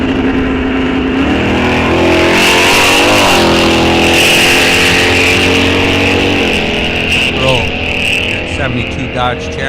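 A Dodge Challenger makes a drag racing pass at Rock Falls Raceway, its engine loud and close as it revs and climbs through gear changes, with an announcer talking over the roar.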